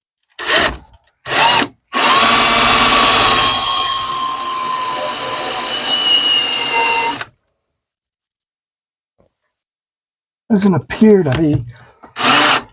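A power drill starts in a few short bursts, then bores steadily through an RV motorhome floor for about five seconds before stopping; silence follows, then a person speaks briefly.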